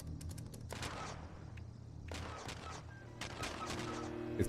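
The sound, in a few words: turret firing in video game Fallout 76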